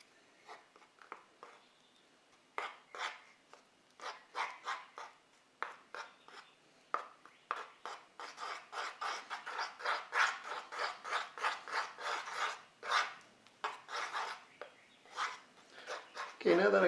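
Bondo body filler being stirred together with its hardener, a series of short scraping, rubbing strokes that come faster and louder as the mixing goes on, close up and with no voices.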